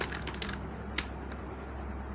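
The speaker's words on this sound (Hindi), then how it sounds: "थोड़े बटन प्रेस करके देखते हैं।" Keys clack on a small keyboard made for a mobile phone, a quick cluster of light taps followed by a couple of isolated presses, fairly faint over a low steady hum.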